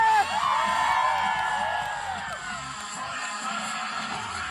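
A crowd of students cheers and whoops at a school sports day, a loud burst of shouting that tapers off over a few seconds, with voices over a public address.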